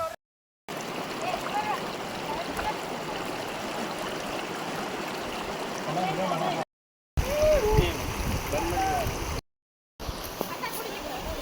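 Water of the stream above Dabbe Falls rushes and gurgles nearby in a continuous wash, with people talking over it and a few brief silent gaps.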